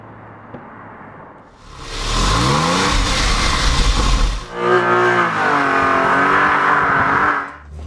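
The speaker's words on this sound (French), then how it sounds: "On remarque tout de suite que la voiture quand même répond bien à la pédale." BMW 633 CSI engine heard from the onboard camera, revving hard in two long rising pulls, loud and close, with a brief lull between them and a quieter idle before and after.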